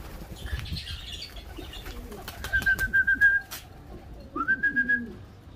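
Pigeons at a Moroccan loft flap their wings sharply near the microphone and give short cooing calls, with a couple of clear whistled tones and low background bird murmur.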